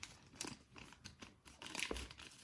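A baking powder sachet crinkles and crackles close by as it is torn open and tipped into a bowl of flour, in quick bursts of dry rustling with brief pauses between.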